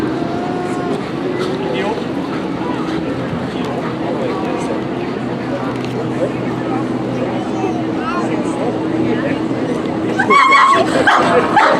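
A police dog at a drug-detection training demo at a first responders expo yips and whimpers amid outdoor crowd noise and people talking, with a louder burst of barking near the end.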